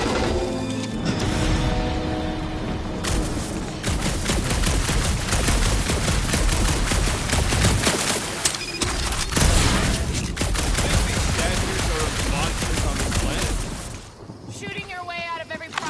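Dense gunfire in a Guardians of the Galaxy video game rattles almost without pause, loud and close, with rapid bursts, impacts and crashes piling up before it thins out near the end.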